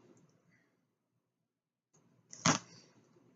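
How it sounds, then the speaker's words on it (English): A single sharp cut through paper while making a small pocket folder for a tiny planner, one brief crisp snip after a quiet stretch, with faint background noise. "Let me cut it."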